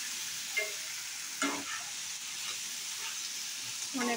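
Fried soybean chunks and potatoes stirred in a pan make soft scraping strokes over a faint, steady sizzle, with a few louder stirs at about 0.6, 1.5 and 4 seconds.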